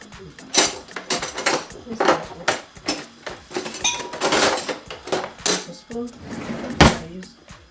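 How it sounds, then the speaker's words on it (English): Beef being stirred in a pot while cooking for Ghanaian jollof rice, with repeated clanks and scrapes of the spoon against the metal close by, over ongoing talk. "So we're going to stir it to make sure it's all fully covered"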